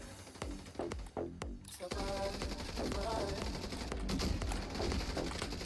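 Rapid automatic gunfire and bursts of shots in The Division 2 online shooter, loud and dense, with a few spaced single shots at first giving way to sustained fire, with faint game voices underneath.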